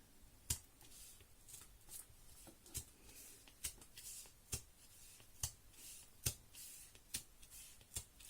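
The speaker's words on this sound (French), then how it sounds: "je poinçonne." A series of sharp, dry clicks close by, roughly one per second, each a crisp snap of a paper punch going through cardboard, with soft rustling between.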